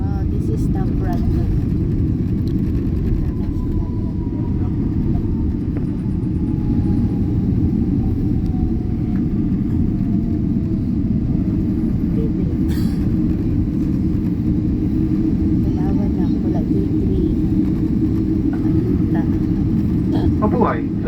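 Inside the cabin of a Philippine Airlines airliner just after landing at Los Angeles International Airport, a loud, steady low rumble of the rolling aircraft continues throughout, with passengers' voices faintly under it.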